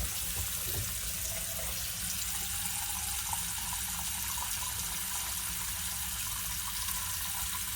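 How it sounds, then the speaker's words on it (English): Steady broadband rush of tap water pouring into and draining from a bathroom sink in an interior cruise ship cabin aboard the Carnival Horizon, continuous and close with no gurgling or voices. "And I'll do the same with the sink."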